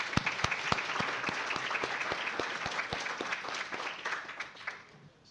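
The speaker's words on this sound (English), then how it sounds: "A round of applause for them." An audience at a podcast recording of an AI debate applauds as four debaters come up, a steady dense patter of clapping with distinct individual claps, gradually fading toward the end.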